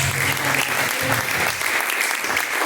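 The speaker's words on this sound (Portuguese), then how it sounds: "as palmas bem alegres para Jesus" A church congregation at an IPDA service claps joyfully and loudly, a thick, continuous burst of applause close by, with faint low music or voices humming beneath it.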